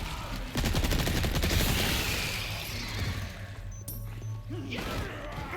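A grenade blast in Resident Evil 4 Remake erupts with a loud, near crash. Rattling, clattering debris and scattered impacts follow, then die away into lower rumbling game ambience.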